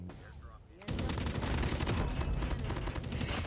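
Rapid assault rifle fire from a Kilo 141 in the mobile shooter Call of Duty Mobile, bursting in loudly after a quiet moment and continuing as dense, sustained rattling shots.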